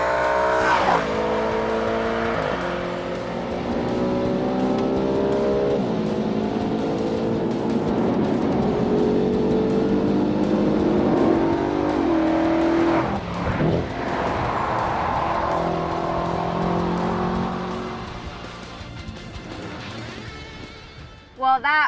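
A car accelerates hard through several gears, engine pitch climbing and dropping with each shift, loud and continuous, with a brief tire squeal near the end.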